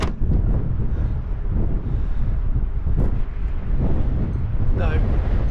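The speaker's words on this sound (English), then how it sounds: "it's a windy one, and as the whole country knows, it's a very windy one, in fact." Strong wind roars steadily across a rooftop, buffeting the microphone with dense low rumble throughout, loud and continuous.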